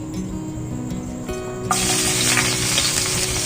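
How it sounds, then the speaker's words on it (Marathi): Garlic frying in oil in a pan, a quiet sizzle with light stirring that jumps to a louder, steady, close sizzle partway through and holds there to the end. "लसूण तेलामध्ये छान परतून घेते।"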